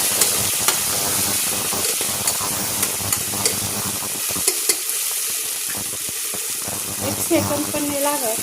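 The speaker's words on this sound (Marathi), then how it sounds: "या तेलात छान असा हा मसाला थोडासा असा परतून घ्यायचा आहे. तेल सुटेपर्यंत." Spice masala frying in oil in a pan while being stirred for a coconut-milk brinjal curry, a steady close sizzle with scraping stir strokes, under a woman's speech.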